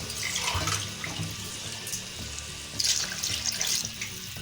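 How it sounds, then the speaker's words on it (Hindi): Half a litre of running water pours steadily into a cooking pot of rice, a continuous splashing stream with a few louder gushes toward the end. "अब मैं इसमें पानी डालूंगी, आधा लीटर पानी डालेगा।"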